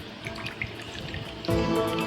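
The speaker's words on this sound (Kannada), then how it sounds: "ಮೊದಲನೆಯದಾಗಿ ಶುದ್ಧ ನೀರಿನಿಂದ ಮೂರು ಲೋಟಗಳನ್ನು ಭರ್ತಿ ಮಾಡಿ" Clean water is poured into a glass tumbler as three glasses are filled for a light-scattering science demonstration, a soft trickle giving way to a louder, steady splashing pour that runs to the end.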